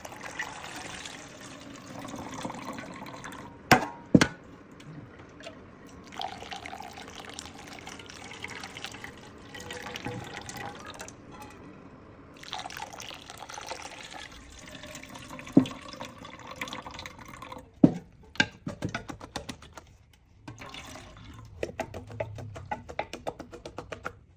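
Water pours and trickles into a jug while iced black tea is made for sale, with intermittent splashing, drips and clinks of containers across a fairly quiet stretch.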